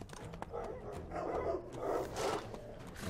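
Dogs barking in Mount & Blade Warband with the Imperial Rome mod, several rough barks repeating through a busy battle din, moderately loud and mixed with crowd and combat noise.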